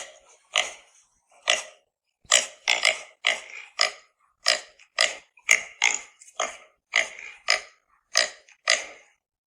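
A pig on a farm gives a long series of short, close grunts in an uneven rhythm, about fifteen snorty bursts separated by brief silences.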